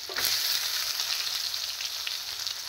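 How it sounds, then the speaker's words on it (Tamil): Onions frying in a pan with a steady, close hiss and sizzle from a small onion and a medium onion, constant throughout with faint stirring, no talking. "வெங்காயம் போட்டுக்கலாம்."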